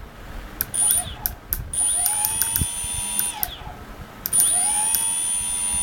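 Brushless motor driven by a modified I2C electronic speed controller, a high whining tone that steps up and down in pitch with a few abrupt changes before winding down, steady and close.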